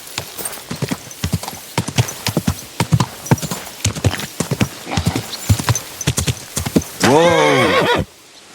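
Horse hooves clip-clop in a steady rhythm for about seven seconds in the game Kingdom Come Deliverance II, then a loud, clear neigh rings out near the end.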